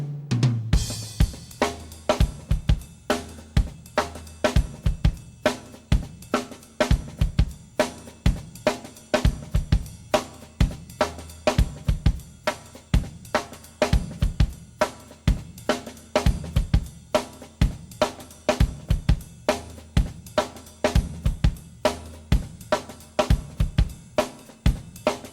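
A drummer plays a busy funk drum groove from the flute-solo section, syncopated kick, snare and hi-hat hits running steadily throughout at moderate level with no voices.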